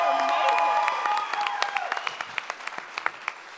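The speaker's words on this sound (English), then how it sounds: "can you give him another round of applause?" A talent show audience cheers and whoops, then settles into scattered clapping that thins out into individual claps.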